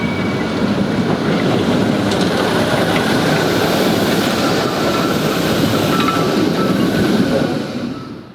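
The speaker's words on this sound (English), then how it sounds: "For many people, the distinctive sound of a 105NA is simply the sound of Polish urban transport." A Konstal 105Na tram runs through Poznań, a loud, steady rumble of wheels on rails with faint squeals and clatter, heard close and alone without talk.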